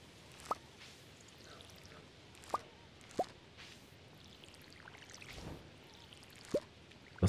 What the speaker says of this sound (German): So, dann gießen wir mal eben zu Ende hier.